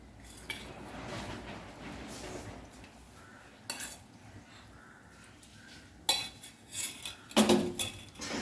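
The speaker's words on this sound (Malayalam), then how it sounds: "നന്നായിട്ട് നമുക്കിതൊന്ന് ഇളക്കി കൊടുക്കാം." Sago stirred into milk in a pot for payasam: a spoon scrapes and clinks against the metal, quiet at first, then several sharper knocks and scrapes toward the end, with no talking.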